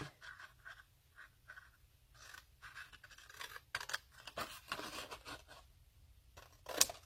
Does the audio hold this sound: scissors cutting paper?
yes